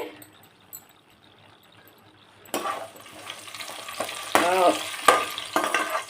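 Cucumber, tomato and potato curry frying in a pan, quiet at first, then a sudden loud hiss and crackle as the vegetables go in, sizzling steadily with stirring scrapes and clinks.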